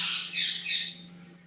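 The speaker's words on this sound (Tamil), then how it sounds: "அங்கே குருவி கத்துதான்" Two or three harsh, high chirping calls from a sparrow, fairly close, over a steady low hum, fading toward the end.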